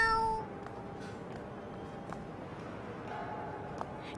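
A voice imitates a kitten's meow, giving a short high mew at the very start. After it comes faint, quiet room noise.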